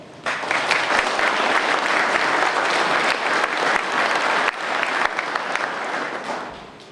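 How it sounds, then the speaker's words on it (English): Loud, full crowd applause at a military appreciation night event, a dense continuous wash of clapping with a brief dip midway before tapering off at the close. "Give him applause"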